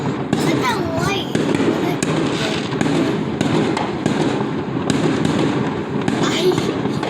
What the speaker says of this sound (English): seen that much fireworks before